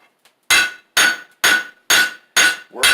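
A hammer strikes a steel teardrop punch taper on an anvil in a forge. Six sharp, ringing, close blows land at an even rhythm about half a second apart, each with a bright metallic ring.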